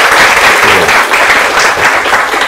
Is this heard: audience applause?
yes